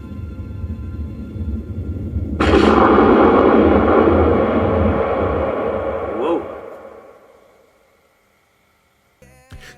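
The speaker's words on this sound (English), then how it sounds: "it's just an explosion" A sudden loud film explosion erupts into a long, rumbling roar that slowly fades over several seconds, then silence before a brief final noise.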